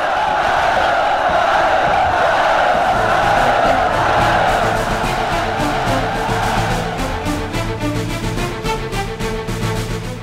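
A host of soldiers bellows a sustained battle cry in answer to their general's rousing speech, a loud massed roar that slowly thins and pulses toward the end as the shouting ebbs.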